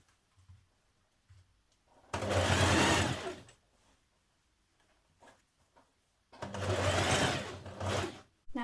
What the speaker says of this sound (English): we're going to do our top stitching on the outside